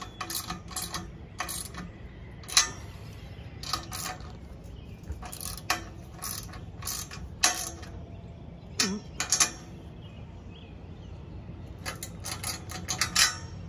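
Aluminum awning mounting bolts are tightened on a fifth-generation Toyota 4Runner, producing a string of sharp metallic ratchet clicks in irregular bursts over low background noise.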